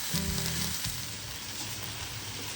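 Eggs frying in a restored WagnerWare cast iron divided skillet, a constant hissy sizzle that stays even and fairly quiet throughout, close to the pan with no talking.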